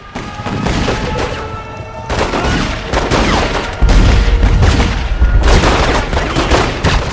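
Repeated gunfire from The Godfather 2 video game crackles in dense loud bursts, with booming impacts and a heavy low-end surge midway through the continuous shooting.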